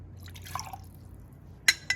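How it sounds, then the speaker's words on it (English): A few small, clear drips of a liquid solution fall into a glass beaker in a quiet lab, with faint liquid movement before them. "We can now transfer this to the beaker."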